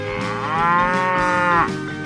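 A cow moos in a 3D animal video game, one long, loud, drawn-out lowing call that rises and holds before cutting off, heard clearly on its own.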